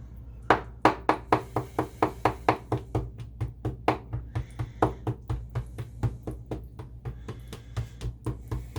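A spoon stirring homemade enchilada sauce in a pot gives a steady run of sharp, close knocks, about three per second, repeating evenly against the pan with no talking.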